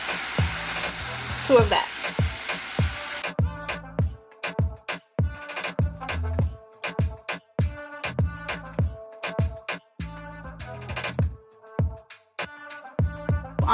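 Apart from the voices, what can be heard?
onions and peppers frying in a pot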